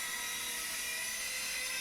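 A harsh, buzzing, chainsaw-like whine from a punk song fills the moment with dense, steady high-pitched noise.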